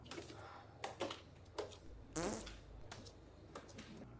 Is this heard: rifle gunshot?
no